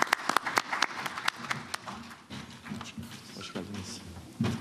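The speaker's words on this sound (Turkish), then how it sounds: "Alkışlayalım hanımefendi temsilcimizi." A small hall audience claps for a board member at the Ziraat Turkish Cup round-of-16 draw ceremony, with crisp, close claps at first that thin into a softer patter and room noise.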